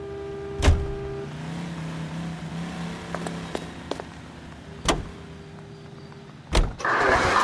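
A car in the L.A. Noire video game, with a few sharp door-like thuds and clicks over a low engine hum that runs throughout, ending in a louder rising rumble.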